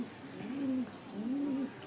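A young Madrasi flying pigeon gives two soft, rising-and-falling coos close by, each lasting about half a second with a short pause between them and nothing else heard.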